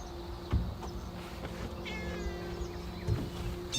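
A cat meows a few times, close by and moderately loud, with soft background noise between the calls.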